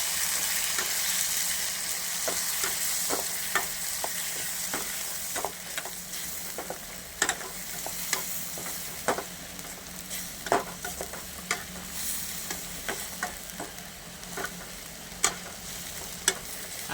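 Ground masala paste is stirred into frying potatoes in a pan, with a steady sizzle underneath and repeated scraping strokes of a spoon, close and fairly loud, and no talking.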